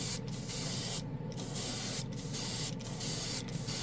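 An airbrush at 20 psi sprays gunmetal acrylic primer in a steady close hiss, broken by several brief pauses as the trigger is released and pressed again.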